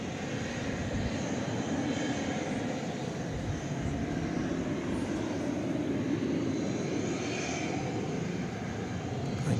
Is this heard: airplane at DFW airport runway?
yes